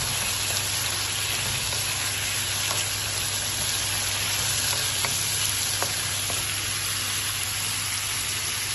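Carrot and shrimp vegetables sautéing in a pan give a steady, close sizzle with a constant frying hiss, a few faint clicks and stirring taps, and no talking.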